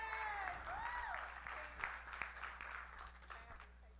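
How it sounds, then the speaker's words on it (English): A church audience claps for a group of people, the applause soft and fairly distant. Sharp slaps stand out now and then, and a voice slides through above it. "clap your hands for them"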